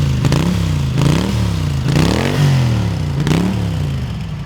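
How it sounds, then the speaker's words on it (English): A 1980 Honda CX500C V-twin motorcycle with its stock exhaust idles close by in a deep, steady rumble that swells and dips in slow pulses, with a little mechanical clatter. "The stock exhaust has a nice rumble to it."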